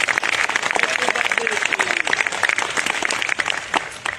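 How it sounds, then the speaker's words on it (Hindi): An audience in a packed auditorium at a Hindi poetry evening breaks into loud, sustained clapping, many sharp hand claps overlapping close up, with a voice briefly audible through it. "एक बार जरा जोरदार आप ताली बजाइएगा"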